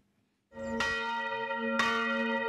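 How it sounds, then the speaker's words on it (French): A church bell in a French village rings out loud and resonant, two strikes with a long sustained hum between them, after a moment of quiet. "les cloches ponctuent la vie du village"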